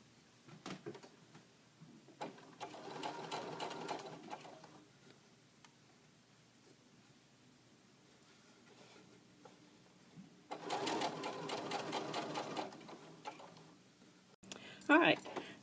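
A sewing machine top-stitches stretchy t-shirt knit on doll clothes, running in two sustained bursts of rapid mechanical stitching with quieter pauses between, close and fairly soft.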